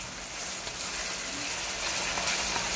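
Onions, red and white, with green, yellow and red peppers and garlic sautéing in vegetable oil, a steady soft sizzle with faint crackles throughout, no talking.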